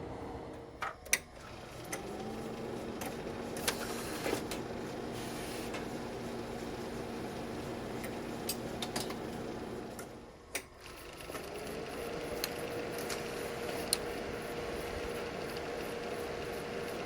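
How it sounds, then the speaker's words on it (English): The pickup mechanism of an old Xerox 8000 laser printer under restoration whirs steadily with clicking and ratcheting, stops briefly with a clunk, then spins back up and keeps running. "I've been fiddling around with the laser printer a bit, and I've gotten it to this state."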